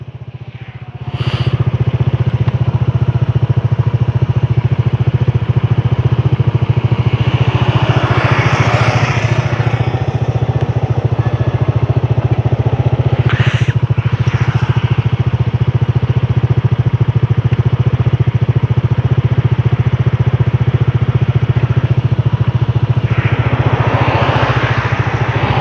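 A motorcycle engine hums steadily and loudly throughout, with a few brief louder swells as it revs or passes close by.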